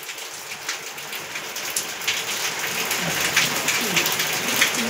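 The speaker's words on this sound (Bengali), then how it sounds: "বাইরে কিন্তু প্রচুর বৃষ্টি হচ্ছে" Steady heavy rain pours outside, a dense continuous hiss with scattered drops, no voices.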